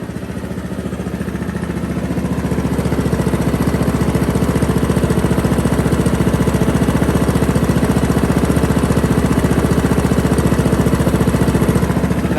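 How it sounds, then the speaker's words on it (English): A lawn mower engine idles steadily after its idle adjustment, a loud, close, even mechanical drone with a constant fast pulsing and no talking. "I got the idle set really nice."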